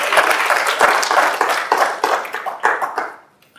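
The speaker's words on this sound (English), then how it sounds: "give the organisers of WordCamp Sydney a round of applause" A conference audience at WordCamp Sydney, a WordPress event, breaks into dense, close applause for the organisers; the clapping holds steady for about three seconds, then thins out and fades to silence.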